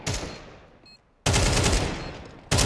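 Counter Strike 2 gunfire crackles in two loud, sustained automatic bursts separated by a short lull and a faint distant rattle, then a third burst begins at the end.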